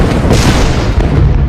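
Explosions in a city during the Tet Offensive in the Vietnam War, a loud, continuous deep rumbling boom that fills the whole moment without a break.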